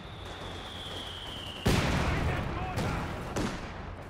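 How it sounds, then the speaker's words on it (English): Battlefield combat in the WWII strategy game Company of Heroes 2, with a sharp mortar-like blast followed by rattling machine gun fire and further impacts, under ongoing commentary. "the mortar will be strongest against the machine gun"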